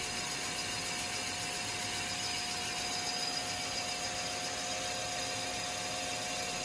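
A boring machine cuts the cylinders of a Buick 225 Dauntless odd-fire V6, its spindle turning around 550 RPM on a light cut. It gives a continuous, even hiss with a thin steady whine, close and unbroken, without voices.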